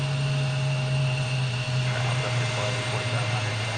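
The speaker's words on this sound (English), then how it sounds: "So this American Airlines is getting ready to roll." American Airlines airliner at Portland International Airport beginning its takeoff roll, a steady engine drone with a low tonal hum and broadband roar at moderate distance, with faint voices in the background.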